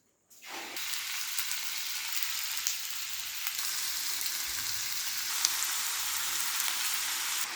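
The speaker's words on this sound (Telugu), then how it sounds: "నాలుగు చెం మూడు చెంచాలు నూనె పోసుకున్నా అలాగే ఆనియన్ కట్ చేసి వేసుకున్నా" Chopped onion hits about three spoonfuls of hot oil with a sudden bright sizzle that holds as a loud, dense, steady frying hiss, with no talking.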